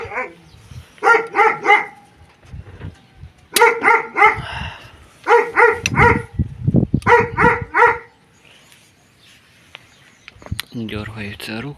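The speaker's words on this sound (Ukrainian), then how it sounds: "собаки" Several dogs bark in rapid bursts of three or four, close by and loud, with pauses between volleys and a brief voice near the end.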